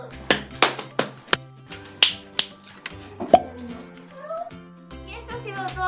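A sequence of body percussion: sharp thigh slaps, chest pats, a clap, finger snaps and a mouth pop, about a dozen crisp close hits in a quick rhythm, ending in softer sounds.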